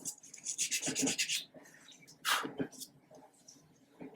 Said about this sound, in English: I'm going to go in with a little narrow sanding stick and just finish it off.